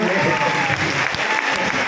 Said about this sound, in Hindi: एक बार जोरदार तालियां आपके लिए।